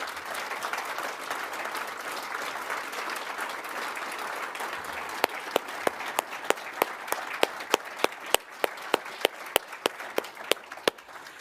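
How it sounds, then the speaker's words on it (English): A crowd at the Tasmania Australian of the Year awards applauds its nominees in a dense, sustained wash of clapping, then a single pair of hands keeps clapping in slow, sharp, evenly spaced claps near the end. "let's give them a huge round of applause"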